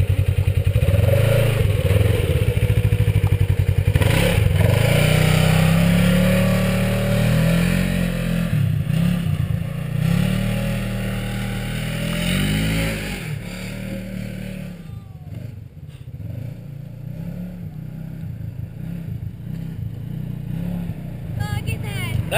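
A motorcycle engine revs and accelerates loudly close by, holding a strong roar before it drops away and fades into the distance, with voices faintly in the background.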